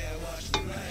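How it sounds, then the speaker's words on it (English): Butter sizzles as it melts in a pot for Rice Krispie treats, a steady close frying hiss broken by one brief louder scrape of stirring midway. "Now it starts, needs to sizzle a little bit."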